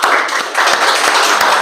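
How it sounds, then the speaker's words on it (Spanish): A church congregation claps loudly at a Manantial de Vida service, with a brisk, dense burst of applause close to the microphone and individual claps standing out in a quick, uneven rhythm. "Un aplauso, por favor, fuerte."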